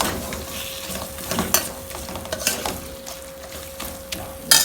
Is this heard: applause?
no